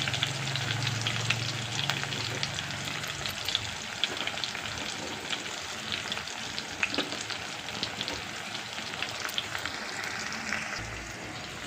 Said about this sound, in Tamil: கடுகு தாளிச்சிருக்கேன், அது கூடவே மாங்காய் சின்ன வெங்காயம் போட்டிருக்கேன். இப்போ நம்ம கொஞ்சம் கருவேப்பிலையும் சேர்த்துக்கலாம்.